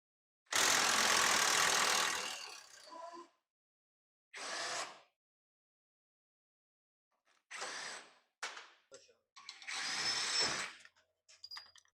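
A power tool, likely an impact gun, spins off the 17mm lower control arm nut and bolt on a 1997 Eagle Talon in loud close bursts: one long run, a short one, then several choppy pulses.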